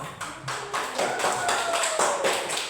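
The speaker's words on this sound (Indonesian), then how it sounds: "Tepuk tangan untuk teman Gio." Students in a mathematics classroom clap for a classmate in a short burst of rhythmic, fairly close claps, with a faint tonal ring running through.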